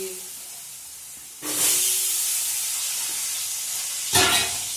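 Hot oil hissing and sizzling in a pan on a home stove, a steady close hiss that flares into two louder sizzling bursts, with no clear talk over it.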